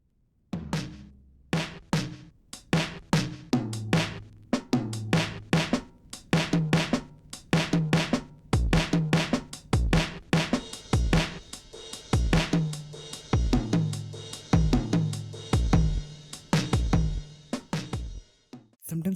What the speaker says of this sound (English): This is the sound of pi.